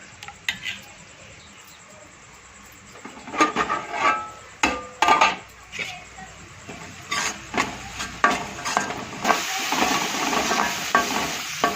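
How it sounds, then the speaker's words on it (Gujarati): Spices and tomatoes stirred with curd in a pan for Gujarati dahi tameta nu shaak: a faint steady sizzle broken by a run of scraping, clattering spoon strokes that grow busier and louder toward the end, with no talking. "હવે બધું મિક્સ કરી દઈએ આપણે મસાલો અને દહીં ટામેટાનું શાક"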